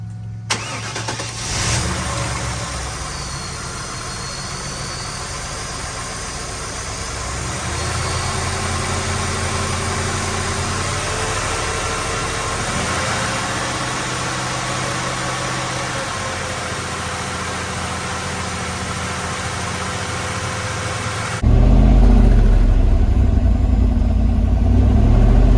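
Fourth-generation Chevrolet Camaro engine held at about 2,000 RPM while Sea Foam cleaner is sprayed into the intake; a steady, loud mid-pitched engine drone continues throughout, swelling near the end.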